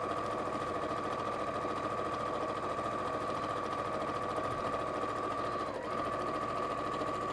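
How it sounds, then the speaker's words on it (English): Domestic sewing machine running steadily while stitching a straight seam line through quilted fabric, a continuous close whirring hum with a brief pause near the end, no talk. "So I've now got it, so I've got my line of stitching."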